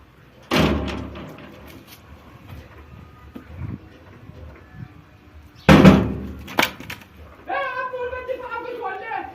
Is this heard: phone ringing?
no